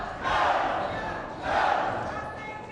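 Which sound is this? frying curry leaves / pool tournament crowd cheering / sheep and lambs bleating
pool tournament crowd cheering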